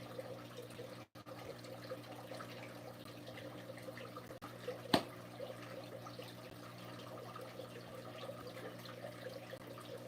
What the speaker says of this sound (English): You hear that running water from the tank?